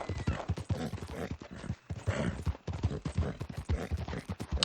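Horse hooves clip-clop in a steady, quick rhythm of close, distinct impacts as a horse is ridden in Red Dead Redemption 2, continuing throughout with no talk.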